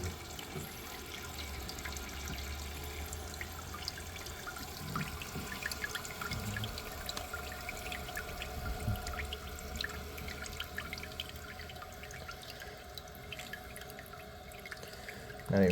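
Water runs steadily into a toilet tank as it refills, a faint, continuous trickling and hiss with occasional drips, and no voices.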